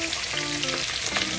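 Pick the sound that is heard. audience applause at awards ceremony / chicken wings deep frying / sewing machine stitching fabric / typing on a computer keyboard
chicken wings deep frying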